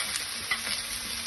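Carrots and garlic fry in a hot pan, crackling and hissing in a steady close sizzle while a utensil stirs them, with a few soft scrapes.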